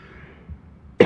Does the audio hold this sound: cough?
yes